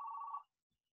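A phone gives a short electronic ring, a single clear tone burst lasting under half a second before cutting off into silence.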